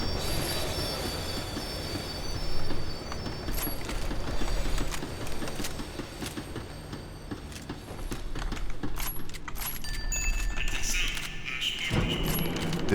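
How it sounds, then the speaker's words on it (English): Tram in the video game Max Payne 3 slowing down, with steady rumbling rail noise, metallic squeal and clunks running throughout, loud and close, swelling in bursts. "The tram was slowing down, and I'd only just gotten on board."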